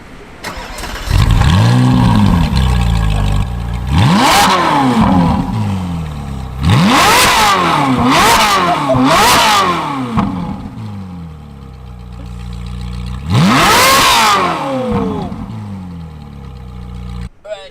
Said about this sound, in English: Rev time.